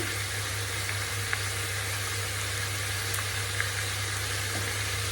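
Pumpkin sautéing in a pan with salt, a steady low sizzle running evenly throughout with a few faint clicks of utensils, no voices.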